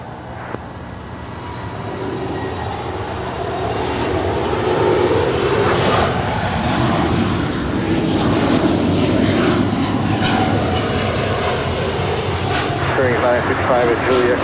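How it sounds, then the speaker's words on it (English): An All Nippon Airways airliner bound for Tokyo Haneda rolls for takeoff on runway 25 right at LAX, a loud, sustained jet engine roar that swells after the first few seconds and holds steady. "All Nippon Airways flight 125. Now rolling on 25 right to Tokyo Haneda."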